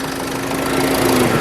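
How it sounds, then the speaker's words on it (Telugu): A close Ford EcoSport Titanium 2017 engine idles with a steady, even hum and a low rhythmic throb throughout. "ఇంజన్ యొక్క నాయిస్ చాలా అంటే చాలా సైలెంట్గా అయితే ఉంది"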